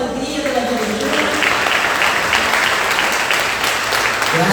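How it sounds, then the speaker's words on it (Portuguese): A church congregation at a mission day service breaks into steady, loud applause that fills the room and continues throughout, with some voices mixed in. "Aplauda o Senhor com alegria"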